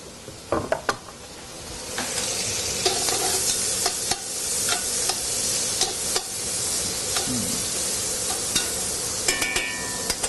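Food sizzles steadily in a hot pan as a spoon stirs it, with scraping and knocks against the pan over a constant frying hiss, close and without talk.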